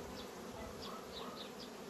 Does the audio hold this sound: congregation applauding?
no